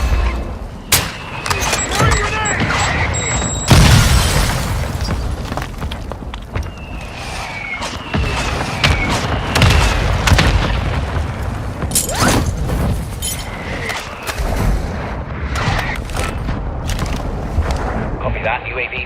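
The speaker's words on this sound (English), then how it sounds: "Mortar strike inbound." Mortar strike explosions in Warzone 2 boom and crack in a dense run of heavy blasts and rattling mechanical clatter, with voices talking over the barrage throughout.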